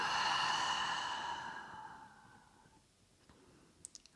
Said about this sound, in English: Deep inhale. Exhale, let go.